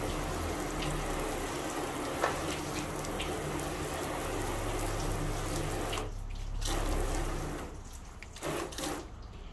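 Water floods over a ceramic-coated car panel in a steady, loud rushing spray that briefly thins and cuts out a few times near the end, with no voices.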